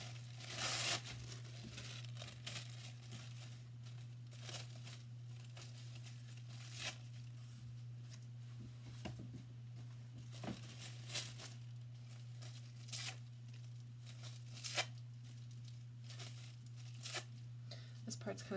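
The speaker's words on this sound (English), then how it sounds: "So I'm just going to rip up some different pieces of tissue paper, like some greens and blues." Tissue paper in greens and blues is torn by hand into pieces for a sun-catcher craft, giving repeated short rips and crinkles over a steady low electrical hum.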